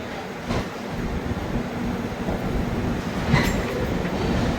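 The Sealdah–New Delhi Rajdhani Express rolling out on its journey, a steady low rumble of wheels and carriage noise from inside the train with a brief metallic squeal near the end.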